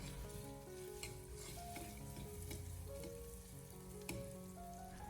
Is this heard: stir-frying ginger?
yes